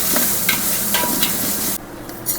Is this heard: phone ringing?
no